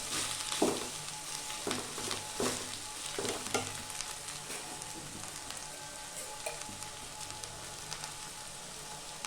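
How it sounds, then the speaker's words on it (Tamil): Okra pieces fry in hot oil in a pan, a soft continuous sizzle with occasional crackles and light stirring scrapes, fairly quiet and steady throughout with no talking. "நான் எண்ணெயிலே அப்படியே ஃப்ரை பண்ணி ஃப்ரை பண்ணி கொஞ்சம் முறுமுறுப்பாக வர அளவுக்கு ஃப்ரை பண்ணுவேன்"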